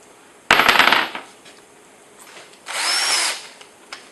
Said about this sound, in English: A temptation is to use the drill bit, but drill bits have a problem